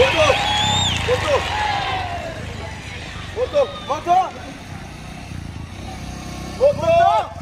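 A motorcycle engine rumbles and passes on a city street in Ciudad Juan Bosch, heard at moderate distance beneath excited voices that talk and shout over it for most of the clip.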